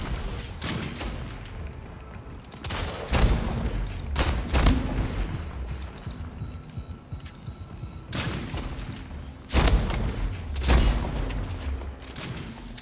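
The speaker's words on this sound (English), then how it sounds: "they got a rocket launcher" Gunfire bursts and booming shots from a combat video game match where an enemy wields a rocket launcher, sounding as repeated loud explosive blasts in clusters amid constant chaotic background noise.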